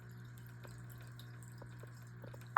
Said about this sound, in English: This here is one of my finished projects. It's a gemstone waterfall.